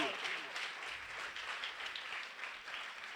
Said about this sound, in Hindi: जोरदार तालियां उसके जलाल के लिए